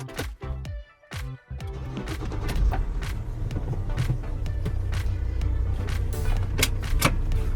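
A van out on a test drive, its steady low engine and road rumble running continuously after a few brief clunks and pauses at the start, with intermittent mechanical clicks and knocks over the drone.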